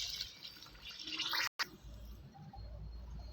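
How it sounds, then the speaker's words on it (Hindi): Water is poured into a cooking pot of fried spices and peas for mutter pulao, a close, splashing fill with a brief pause midway before pouring resumes. "अब हम इसमें पानी ऐड करेंगे।"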